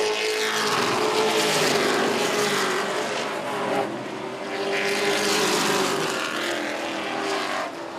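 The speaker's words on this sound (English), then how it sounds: "It's actually starting to string out a little bit as they race, working on the 13th circuit out of 35 here in this Texas truck main event" Race trucks, including a Chevrolet Silverado, lap a Texas track during a 35-lap main event, their engines roaring loudly and steadily with two swelling passes as the pack streams by.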